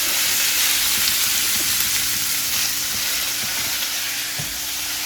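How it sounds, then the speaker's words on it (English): Chicken breast fries in hot oil in a wok, a loud, steady sizzle with soft scraping and stirring knocks throughout. "We will be frying up the chicken breast."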